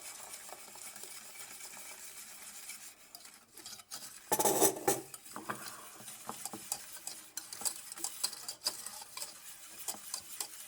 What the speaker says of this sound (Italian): Mescoliamo bene.